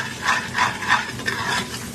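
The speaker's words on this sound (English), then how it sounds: "Just stir it for a couple of seconds." Spices, including turmeric, chaat masala, garam masala and dry mango powder, stirred in a cooking pan, giving a close scraping rhythm of about five strokes with a soft sizzle underneath.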